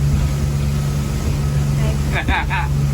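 A steady low boat engine drone runs throughout, the engine recovering from earlier problems, with a few brief voices near the end.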